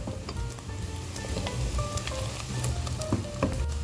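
Bacon fries in its own rendered fat in a pan for a potato and bacon soup, giving a dense, continuous sizzle with scattered pops and crackles, close and steady throughout, with no speech.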